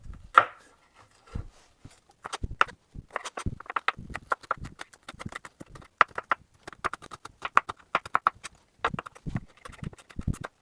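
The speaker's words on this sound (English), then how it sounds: "You just want some nice fine pieces of garlic, minced to your heart's desire" Rapid, uneven knife chops on a cutting board as garlic is finely minced, sharp close taps in irregular bursts with brief pauses.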